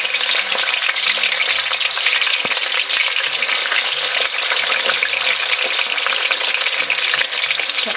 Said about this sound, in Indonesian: tak goreng sedikit.